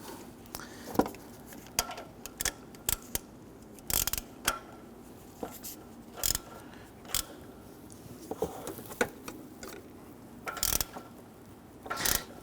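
A ratchet and socket tighten an O2 sensor on a 2006-2014 Honda Ridgeline 3.5L V6, with quiet, irregular clicking bursts close up over faint background noise.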